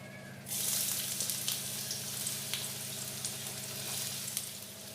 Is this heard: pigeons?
no